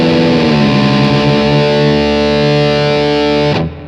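Heavily distorted electric guitar plays a fast 80s hard-rock riff through a ROCKMOD 2 amp tone, loud and alone, ending abruptly near the close.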